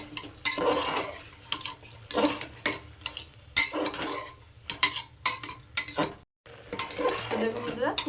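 Bottle gourd mixed with turmeric and chili powder in a pot, irregular scraping and clinking of a spoon against metal in short bursts, with a brief silent gap near the end.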